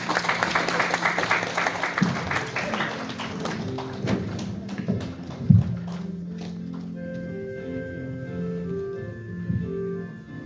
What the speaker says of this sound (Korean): 박수로 맞이해주시면 고맙습니다.